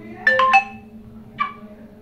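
Ringtone on a Vivo V29 5G phone: three quick bright chime notes, a pause, then one more tone, clear and close over a faint background hum.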